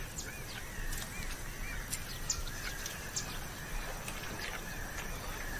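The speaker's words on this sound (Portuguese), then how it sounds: "Este maçarico de dorso malhado voltou da sua casa de inverno," Spotted sandpiper (maçarico de dorso malhado) calling at a wetland, giving a series of thin, high call notes over steady background noise, fairly distant, with no speech.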